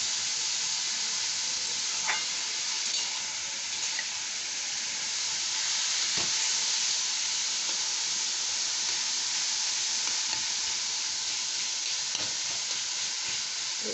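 Cabbage fries over high flame in a pan, a steady, loud sizzle with steam hiss running throughout, broken by a few faint stirring clicks.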